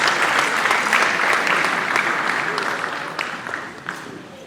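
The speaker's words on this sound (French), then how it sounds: "Sous vos applaudissements, messieurs et dames." A seated audience at an official event launching a national environmental awareness campaign applauds, with steady, dense clapping that slowly thins and fades over a few seconds.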